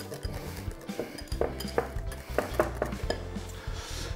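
A sauce with tarragon being mixed for a monkfish terrine, a utensil clinking and scraping against a bowl in a run of irregular taps and stirs, close and fairly quiet, with no voices.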